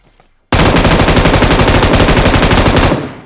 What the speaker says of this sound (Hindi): मैं इसको गोलियां मारने लग रहा हूँ